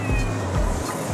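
A robot cat toy at a large trade exhibition gives a loud, drawn-out electronic meow, followed by a second shorter meow, over a steady hum of the busy hall.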